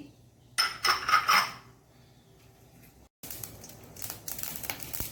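Mustard seeds hitting hot oil in a pan, giving a close, bright crackling splutter for about a second, then quieter frying and a second stretch of scattered crackling and pops.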